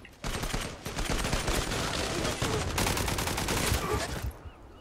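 Dense rapid gunfire from a video game, a continuous loud clatter of overlapping shots lasting several seconds before cutting off.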